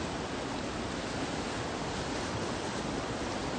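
Flooded Ujh river water rushing near a bridge, a loud, unbroken roar of churning water that fills the whole clip at an even level with no voices.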